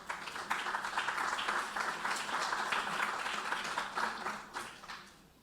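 An audience applauds steadily at a Colombian conference session on plastics and the circular economy, a dense wash of clapping that holds for several seconds before tapering off at the end.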